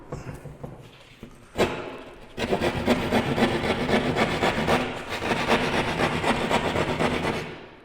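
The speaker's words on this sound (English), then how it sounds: "Take your keyhole saw, that's what this is called, a keyhole saw or a drywall saw." Keyhole drywall saw cutting through drywall for a patch: after a sharp knock, a steady rasping back-and-forth sawing starts and continues, close and clear, with no talk.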